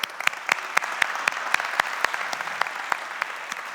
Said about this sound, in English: I want to start with a huge round of applause for Software Mention